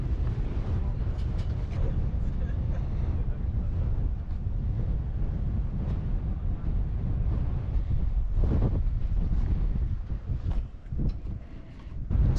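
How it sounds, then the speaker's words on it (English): Strong wind buffets the microphone outdoors on the island of Coll beside a tiny airport terminal, a steady loud rumble that continues throughout with brief gusting dips near the end. "It's a bit windy here."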